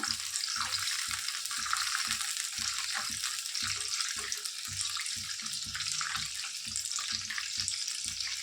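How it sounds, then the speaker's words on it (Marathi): Curry leaves, mint leaves and kasuri methi sizzle steadily in a hot pan for rava vada, with a dense continuous frying hiss and soft periodic scraping as the spoon stirs, close and alone. "कढीपत्ता, पुदिन्याची पानं घातलेत मी, कसुरी मेथी हलवून घेऊया एकदा"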